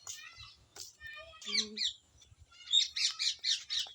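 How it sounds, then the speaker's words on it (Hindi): A pet parrot kept at a rural home with goats and cows gives bursts of chirps, whistles and harsh squawks, close by and fairly loud, with short pauses between calls. "तो फ्रेंड्स आप लोग तो मेरे यहाँ तोता भी है, आप लोग को और दिखा देते हैं।"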